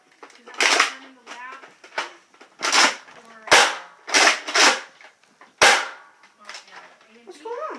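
A Rival Atlas toy foam blaster fires a quick series of sharp, punchy shots, about eight to ten loud snaps in irregular bursts, with faint voices and handling clatter between them.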